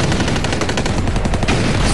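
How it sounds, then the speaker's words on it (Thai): Sustained rapid machine-gun fire from a Bradley armored vehicle, a dense continuous burst of loud, close shots aimed across a grassy field in a Baghdad battle. "บราดลี่ยิงปืนกลของมันใส่ศัตรูที่อยู่อีกฝั่งของทุ่งหญ้า"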